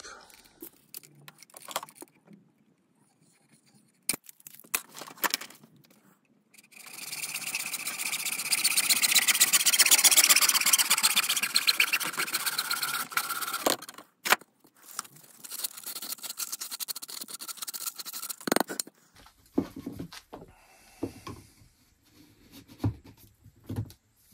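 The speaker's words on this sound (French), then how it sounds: "on prend un tube 50 cm et on coupe" A 50 cm tube is cut by hand, giving a steady rasping saw-like noise of about seven seconds mid-clip, with scattered knocks and handling clatter before and after.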